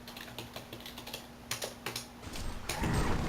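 Quick bursts of keystrokes clatter on a computer keyboard, close and fairly quiet, in an irregular rhythm over a low steady hum, the sound growing busier and louder toward the end.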